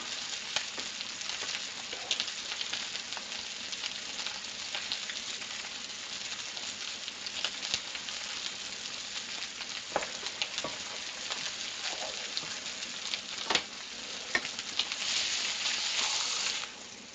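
Potato pieces fry in a hot pan beside ribeye steak, giving a continuous close, loud, crackling sizzle for the whole stretch with occasional sharper pops and no talk.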